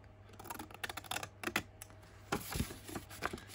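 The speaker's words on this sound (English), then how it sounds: "we're going to cut off this part here" Scissors cut through Amazon cardboard packaging in quiet, irregular snips and crinkles, close but faint, with short pauses between cuts.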